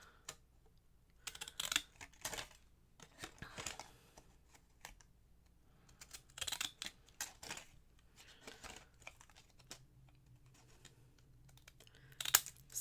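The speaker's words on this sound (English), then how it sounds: "I'm just going to kind of cut this" Scissors cut down the middle of a card in several crisp snipping and rustling bursts spread across the clip, close and fairly quiet, with brief pauses between cuts. No one speaks.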